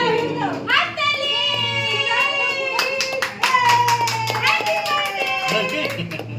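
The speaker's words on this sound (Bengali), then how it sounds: "হাততালি।" Hands clap in a lively, uneven burst at a child's fourth birthday party, sharp taps layered over high children's voices and bright singing-like tones throughout.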